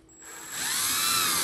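A power drill drives a screw into a plywood template, its motor whine climbing quickly to a loud, steady pitch within a second and a half.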